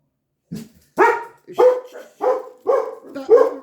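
A dog barks five times in quick succession, loud and close, with brief silent gaps between the barks.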